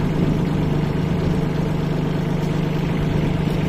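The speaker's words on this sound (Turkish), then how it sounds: "Solis 26 çift çeker traktörümüzle bu faaliyeti yürütmekteyiz." A Solis 26 four-wheel-drive tractor engine idles steadily at a constant low rumbling pitch, close and loud, with no change in rhythm throughout.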